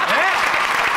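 An audience applauds in a steady wash of clapping throughout a short stretch, with a voice speaking over it at the start.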